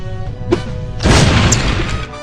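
A single loud boom bursts from an exploding lipstick gadget in the PC spy game No One Lives Forever, a heavy crash with a short decaying rumble after quieter game tones.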